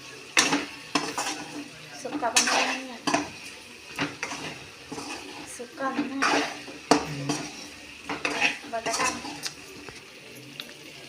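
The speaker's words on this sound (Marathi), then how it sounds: "अंडे पण टाकून घेतलेले आहे सगळे ते पण मस्त मिक्स करायचं आहे आपल्याला" Eggs and masala are stirred in a pan, with a metal spoon scraping and clinking against the pan in irregular bursts of clatter at close range, separated by brief pauses.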